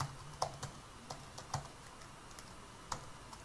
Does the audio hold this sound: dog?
no